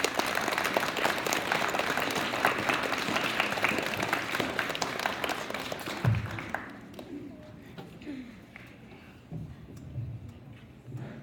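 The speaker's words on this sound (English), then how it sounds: "Give me a round of applause." Scattered audience clapping at a school spelling bee runs for about six seconds, then fades into a quieter room with a few faint taps and murmurs.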